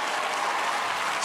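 Studio audience applause and cheering on a TV singing competition show, a dense, steady wash of clapping and crowd noise held at full level throughout.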